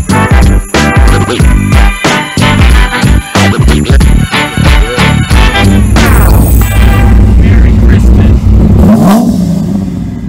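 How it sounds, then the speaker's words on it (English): Supercharged C5 Corvette with a Vortech blower, cam and built motor making about 600 hp, revving hard in a loud, close series of sharp throttle blips, then a sustained high rev with a rising whine. "So if you don't know about the C5 Corvette yet, this thing is Vortech supercharged with a cam and a built motor, making about 600 horsepower"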